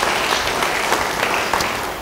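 Short, dense burst of congregation applause during a church sermon, loud and continuous clapping from many people with no talking over it.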